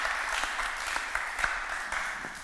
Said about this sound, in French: Donc on peut applaudir pour tout le monde. Et aussi pour le public d'ailleurs.